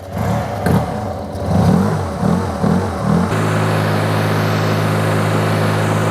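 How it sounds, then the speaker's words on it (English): A Yamaha TMAX scooter engine idles with a lumpy, pulsing rhythm, then settles into a steadier, even hum for the last few seconds. "bike idling for a bit"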